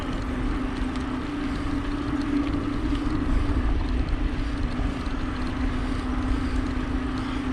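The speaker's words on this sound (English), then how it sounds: "All the planes be flying over." An airplane passes overhead near a Fort Myers bike trail, a steady droning hum with a low propeller-like tone, continuous and moderately loud throughout.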